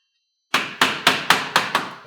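A hammer handle taps metal roof drip edge into place during asphalt shingle roofing, six sharp, evenly spaced knocks ringing out loud and close after a brief silence.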